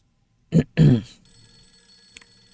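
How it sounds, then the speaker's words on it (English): A phone rings in the horror video game Fatal Frame III: The Tormented, two loud close bursts followed by a low sustained tone. "Phone!"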